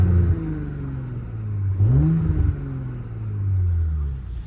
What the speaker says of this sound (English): put it in dynamic mode and give it a few revs